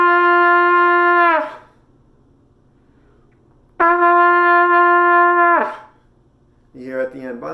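A sustained trumpet note held steadily, then sagging and fading as the lip goes loose at the end, played twice, with a third note starting at the close.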